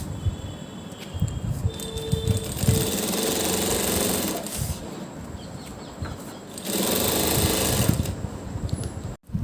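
A sewing machine stitches salwar fabric stiffened with buckram, making loud, rapid mechanical whirring in two long bursts separated by a brief slowdown, then cutting off abruptly at the end.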